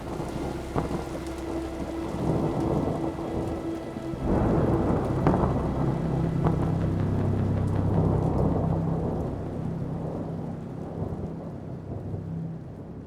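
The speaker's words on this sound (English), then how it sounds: "rain pounding on the cracked windshield of my hover" A thunderstorm in the survival horror game Hollowbody: steady heavy rain pounds close by while deep thunder rolls and swells over it. No one speaks.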